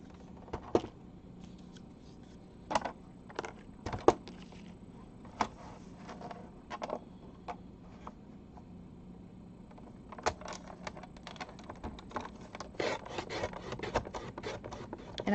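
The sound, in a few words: trimming craft material with a blade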